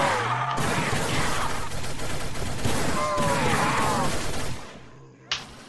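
A gun in a video game fires a sustained, dense burst of loud rapid shots with whooshing effects over it, then cuts off sharply, followed by one short final hit.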